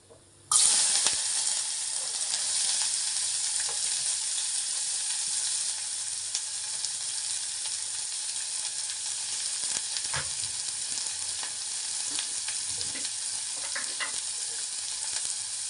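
Onions drop into hot oil and burst into a loud, steady, close frying hiss that continues unbroken with occasional crackles, with no talking.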